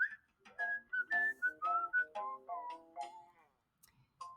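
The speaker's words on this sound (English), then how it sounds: "I hear a zookeeper whistling in my ear." A zookeeper whistles a short, bright tune up close, a string of clear sustained notes and little slides with brief gaps, ending on one last note after a pause.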